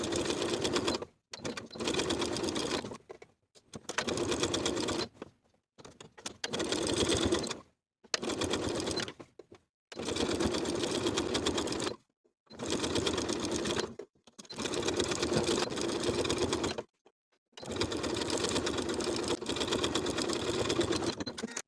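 A sewing machine understitches a sweater neckline facing in repeated runs of one to three seconds, separated by short silent pauses, close and steady.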